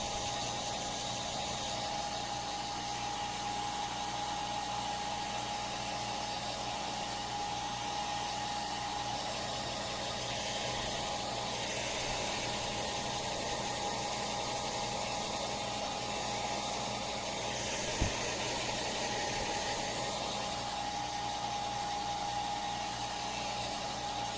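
A hair dryer blows steadily on a freshly bathed dog named Chubby, a constant whirring drone at even loudness throughout, with one brief sharp knock partway through and no talking.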